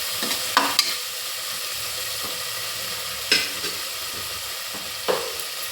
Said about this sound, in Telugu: ఆవాలు, జీలకర్ర, కరివేపాకు అవన్నీ వేసుకొని టమాటా ముక్కలు వేసి మగ్గబెడుతున్నాను